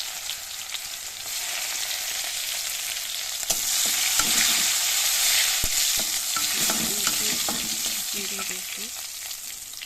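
Crushed garlic hits hot oil in a heated wok for a chicken curry, giving a steady close hiss and sizzle throughout, with scraping stirs and a few sharp utensil clicks partway through.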